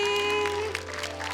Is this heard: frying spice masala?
no